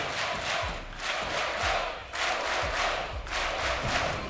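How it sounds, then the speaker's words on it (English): Loud esports arena crowd at the Six Berlin Major grand final between Rogue and FaZe Clan, a sustained roar of cheering and chanting rising in waves with rhythmic thumping claps or stomps underneath, no talk. "This crowd have been incessant today. Absolutely unbelievable noise inside."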